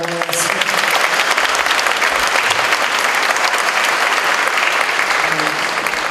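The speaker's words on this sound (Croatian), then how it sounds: "Jedan aplauz za njega." Sustained applause from a live concert audience fills the space, steady and dense clapping throughout with no talk over it.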